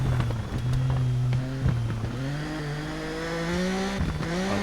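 Racing motorcycle engine in the TT Isle of Man video game, revving hard with rising and falling pitch sweeps as it shifts through gears, continuous and close, briefly easing then opening up again on corner exits.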